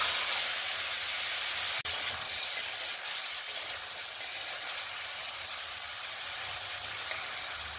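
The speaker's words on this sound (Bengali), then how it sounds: "দিয়ে চিংড়ি মাছগুলোকে সুন্দরভাবে ভেজে নেব।" Large prawns fry in a little oil in a kadai for a Bengali raw jackfruit and prawn dish, giving a steady, close, broadband sizzle and hiss with one brief sharp tick.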